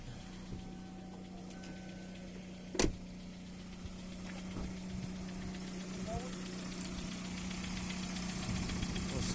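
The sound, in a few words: car engine idling, Hyundai Tucson or Kia Sportage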